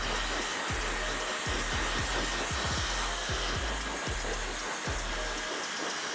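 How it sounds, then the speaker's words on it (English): A hair dryer runs steadily at medium speed on low heat while drying short, textured hair during a haircut, a continuous close airflow roar with small bumps as it moves around the head, no voices. "I'm going to go ahead and start with kind of like medium speed and low heat to start really drying the hair."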